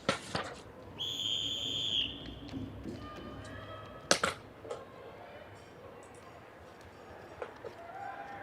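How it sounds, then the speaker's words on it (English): A whistle sounds a clear sustained blast to start a race at an elite track meet, set against crowd ambience with scattered knocks and other sharp short sounds. "So whistle blows"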